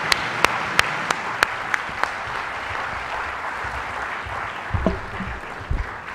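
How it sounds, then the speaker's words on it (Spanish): Applause after a panelist's presentation at a conference, opening with a few sharp, distinct claps that give way to a softer, continuous patter from the audience, with a couple of brief low knocks near the end. "con ese cariñoso aplauso agradecemos la presentación de nuestro primer panelista internacional"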